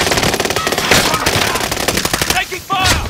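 Dense automatic gunfire in the Call of Duty Warzone video game, rapid close bursts filling the clip, with a brief voice near the end.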